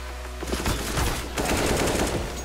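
Rapid bursts of gunfire in a video game, a dense run of sharp shots that stays loud for a couple of seconds with a burst of louder noise at the end.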